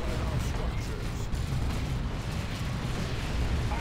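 Tank busters firing at generators in Dawn of War 2, a dense continuous roar of explosions and artillery-like blasts that fills the whole stretch without a break.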